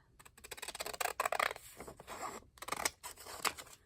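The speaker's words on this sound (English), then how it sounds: "Bring out my Mondo scissors." Scissors snip through paper in quick bursts, crisp close-up cuts with short pauses between strokes.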